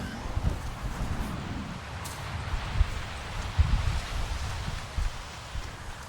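Rain falling in the video game Avatar Frontiers of Pandora, a soft continuous hiss with light patter, faint rustling and a few low thumps, no voices.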